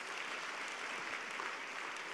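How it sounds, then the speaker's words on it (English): A church congregation claps their hands at a Sunday service, a faint, dense and even wash of applause with no clear speech. "If you are happy about that, clap your hands for the Lord."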